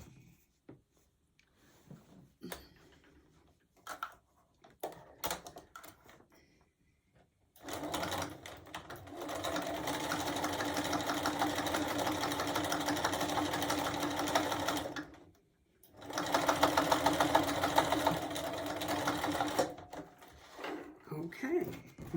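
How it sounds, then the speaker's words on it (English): Sewing machine stitching quilted fabric for a gift basket, running in two steady bursts of several seconds with a brief pause between, after scattered handling clicks and rustles; a voice talks quietly at times. "And we'll sew it."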